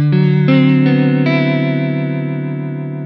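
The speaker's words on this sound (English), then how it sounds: "And this is vibrato." Electric guitar run through a vibrato effect pedal, with several chords strummed and left to ring, their pitch wavering in a steady wobble, loud and close with no talking.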